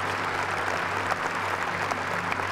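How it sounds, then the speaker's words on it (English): A church congregation claps in praise during a sermon, steady dense applause from many hands at an even level, with a low sustained tone from the sound system humming beneath. "give the Lord a big hand clap of praise"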